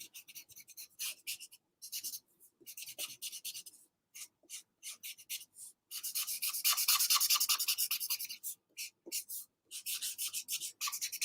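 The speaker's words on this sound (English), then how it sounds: "the dreaded sound of the ink running out" A pen or marker running out of ink drags over paper in short, dry, scratchy strokes, stopping and starting in bursts with a longer stretch of rubbing midway, close and quiet.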